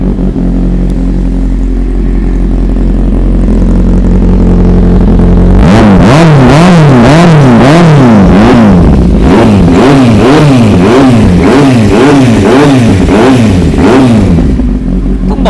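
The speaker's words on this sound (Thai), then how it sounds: "เดี๋ยวฟังเสียงเครื่องกันหน่อยเร็ว" A 2013 Kawasaki Z800 motorcycle idles steadily, then its engine is revved hard again and again, loud and close, each rev climbing and falling in a quick rhythmic series over a continuous mechanical clatter.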